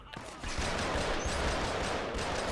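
Rapid-fire gunshots from a scoped weapon in Killzone Mercenary, a fast continuous stream of close, loud reports starting just under half a second in, with a couple of single shots before it and a voice faintly underneath.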